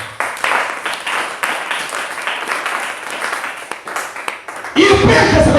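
A church congregation bursts into loud, dense applause that starts suddenly after a stretch of amplified preaching and continues strongly to the end.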